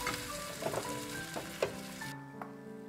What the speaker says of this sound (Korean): 양파가 노릇노릇 투명해지게 볶아주세요.